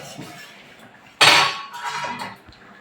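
A metal lid lifted off a pot of shrimp curry gives one sharp clank, followed by a short rattle and a fading scrape as it is set aside.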